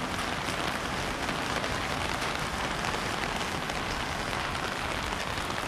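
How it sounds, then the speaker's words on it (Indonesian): Steady, heavy rain falls on a street in Jeddah, a dense, unbroken hiss of drops hitting the ground, loud and close throughout with no speech. "Saya terus terang seneng banget ya hujan, karena memang momen yang jarang sekali di Jeddah hujan gitu ya."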